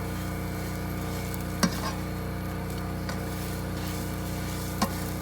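Ginger chicken frying in a pan at a campsite: a quiet steady sizzle with a low hum beneath, broken by two sharp scraping clacks of a utensil as the piece is flipped.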